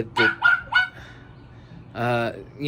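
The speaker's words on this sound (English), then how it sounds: "Some dogs, they just love to bark." A dog barks close by, three quick barks in a row, then a pause before one longer, drawn-out bark.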